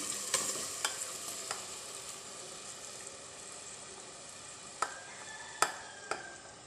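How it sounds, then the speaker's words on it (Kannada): Masala and green chillies going into a pot of hot oil for a Davangere-style chilli palya, a soft steady sizzle punctuated by a few sharp clinks of a spoon against the pot. "ಮಸಾಲೆನ ಎಣ್ಣೆ ಕಾಯ್ಕಿಟ್ಟಿರೋ ಪಾತ್ರೆಗೆ ಹಾಕಬೇಕು ಮೆಣಸಿನ್ಕಾಯಿ ಜೊತೆ"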